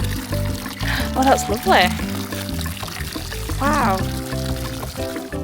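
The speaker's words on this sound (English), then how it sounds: "So this is hot water." Hot spring water pours and trickles steadily in the background while people talk and exclaim close by, the liquid sound continuing beneath the voices.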